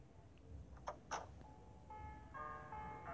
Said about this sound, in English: I think this car makes noise when I try and enter.